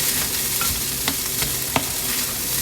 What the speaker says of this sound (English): Stir it all in there together.